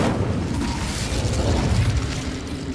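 An Incendio fire spell in Hogwarts Legacy erupts as a continuous roaring blast, dense and loud throughout, like a sustained burst of flame.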